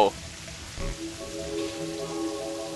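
Steady rainfall in the video game Terraria, a soft continuous patter of drops hissing evenly under faint in-game tones.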